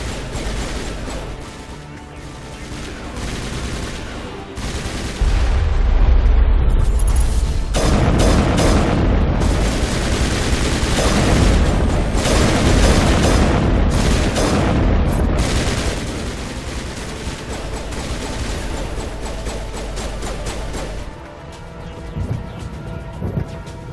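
Heavy artillery shells slam down on Virmire in Mass Effect: Legendary Edition, a dense, continuous barrage of booms and gunfire that swells loud midway and then eases, with no talk over it.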